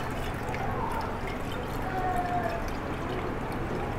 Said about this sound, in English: So I do it for as long as it takes me to pour it.